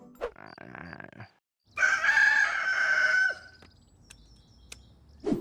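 A cartoon character's voice imitates a rooster's crow in a loud, drawn-out cock-a-doodle-doo, with brief clucking sounds before it and a few faint clicks after.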